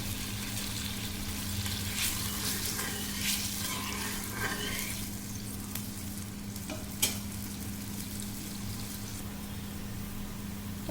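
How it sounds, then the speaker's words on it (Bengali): Fish curry sauce bubbling and simmering in a pan for a pomfret tel jhal, a steady close sizzling boil with faint stirring clinks and one sharp tap near the end, no talking. "তো বন্ধুরা দেখছেন ফুটে উঠেছে ঝোলগুলো"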